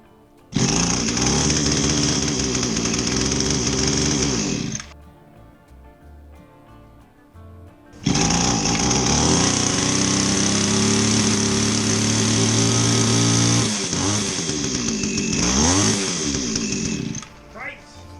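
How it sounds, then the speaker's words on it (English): An Echo GT2000 string trimmer engine running rich buzzes loudly at close range in two long bursts, revving up and down, with a short idle gap between them and a rough sputter at the end. "the trimmer ran. It seemed to run rich, and it didn't respond well to carb adjustments."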